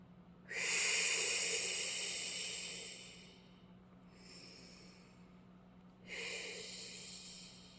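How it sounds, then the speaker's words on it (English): Two slow, deep breaths close to the microphone, a long airy inhale-exhale followed by a softer second one, breathy and hissing in a quiet room. "let's take a couple of deep breaths."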